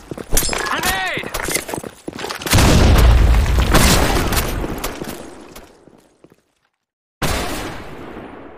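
A grenade blast in a first-person military video game lands as a loud, low boom with a rumbling tail that fades over a few seconds, after brief game voice chatter and before a short cut to silence.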